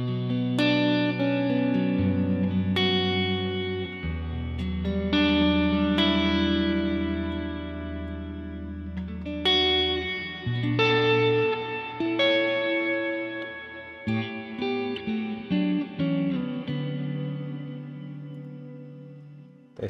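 Electric guitar played through ambient shimmer reverb on a Line 6 Pod Go multi-effects unit, sustained chords and notes ringing into long washy tails with bright upper harmonics, steady and prominent with no talking.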